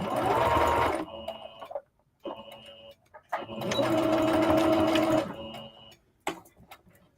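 A home sewing machine stitches fabric pockets for palazzo pants made from a skirt, running in several bursts of rapid mechanical whirring separated by brief pauses, loud and close.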